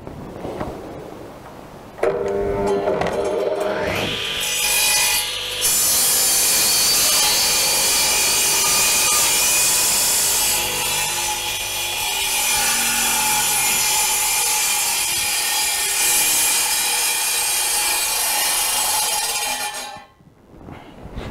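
A Dewalt radial arm saw rips through wood in one loud, sustained cut of about eighteen seconds, the motor whine and blade rasp steady before spinning down at the end.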